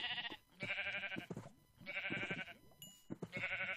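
Sheep in the Minecraft video game bleat repeatedly in loud, close, nasal cries, several overlapping calls in quick succession with brief clicks and shuffles between them.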